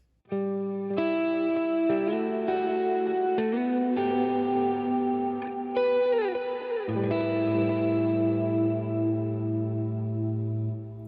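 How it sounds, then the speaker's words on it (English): An electric guitar plays sustained notes and slides, drenched in delay and reverb so each note rings and echoes into the next. "I just love how it sounds with a lot of delay and reverb"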